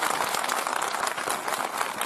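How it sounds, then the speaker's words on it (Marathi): An audience at a school event gives dense, steady applause, with many hands clapping together loudly and continuously without a break. "जोरदार टाळ्या झाल्या पाहिजे"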